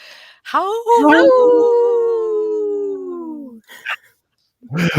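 A single long wolf howl, loud and close, rising and then slowly sliding down over about three seconds, followed by brief scattered sounds.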